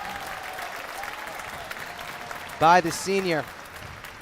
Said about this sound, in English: And the fans applaud the effort